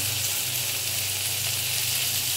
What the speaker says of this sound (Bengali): পেঁয়াজটা নরম হয়ে গেছে, এবার আমি এর মধ্যে চিংড়ি মাছের মাথা দিয়ে দেবো, হলুদ দিয়ে দেবো